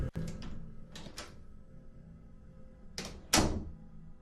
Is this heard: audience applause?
no